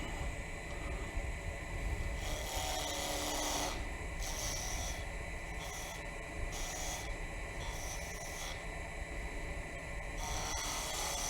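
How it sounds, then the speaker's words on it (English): Parting tool cutting into wood on a lathe, a raspy scraping that comes in repeated bursts of a second or so against steady motor noise, close and fairly quiet. "I'm going to grab my parting tool because I need to make room for the next two cuts that I'm going to do."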